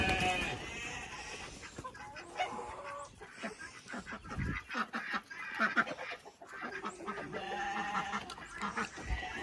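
Chickens, ducks and guinea fowl call in the snow as they are let out after a week shut in, a busy chorus of clucks, quacks and shrill cries with scattered clatter, near and steady.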